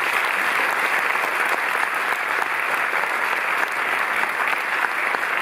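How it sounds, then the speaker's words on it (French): Cinémathèque audience in Paris applauds director Pascal Thomas at a film presentation, a loud, dense, unbroken sheet of clapping that holds steady throughout with no speech over it. "je vous demande d'applaudir très fort Pascal Thomas."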